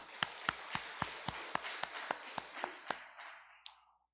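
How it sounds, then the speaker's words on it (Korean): A church congregation claps in thanks during a Korean service, a slow, steady series of about a dozen loud, evenly spaced unison claps that stops abruptly, leaving a brief reverberant tail. "하나님 앞에 감사의 박수 돌리겠습니다"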